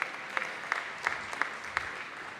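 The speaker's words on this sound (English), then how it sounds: "Let's give Principal Bell a big round of applause" Light applause from a small audience at a school budget forum, a steady patter of claps with a few sharper bursts standing out, no voices over it.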